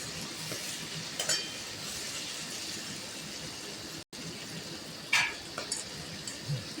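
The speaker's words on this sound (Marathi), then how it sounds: "ते पण असे छान परतून घेऊया आणि 1-2 मिनिटं भाजून घेऊया." Carrot slices and vegetables sauté in a hot pan, a soft steady sizzle with a few sharp clinks of a utensil stirring against the pan.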